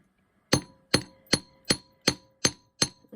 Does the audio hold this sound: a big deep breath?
no